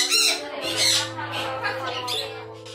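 A parrot at a bird meetup lets out loud, raspy squawks in quick bursts, close and harsh, over a steady background hum.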